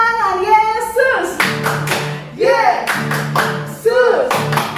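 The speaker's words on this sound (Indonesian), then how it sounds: "Tepuk tangan Yesus." Children clap their hands in bursts during a worship song at a Sunday school service, sharp claps coming in quick rhythmic runs between sung and spoken voices.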